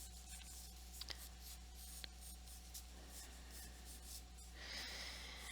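Pencil drawing a half circle on paper, a soft continuous scratchy stroke, close and faint over a low steady background hum, ending in a slightly louder rub.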